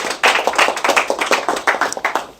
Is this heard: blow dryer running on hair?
no